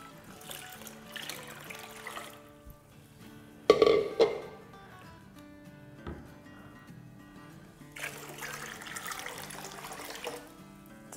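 Roughly 3.25 litres of water poured into a cooking pot for street-style haleem, a brief splashing gush with a quieter trickle before and a longer, steadier pour near the end, no talking.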